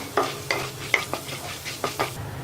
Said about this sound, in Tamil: கடுகு நல்லா பொரிஞ்சதும் உளுத்தம்பருப்பு, கடலைப்பருப்பு 2யும் போட்டு நல்லா பொன்னிறமாக வறுக்கணும்